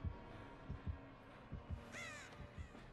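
A crow in the video game Dead by Daylight caws once, clear and fairly close, over low rhythmic thumping like a heartbeat.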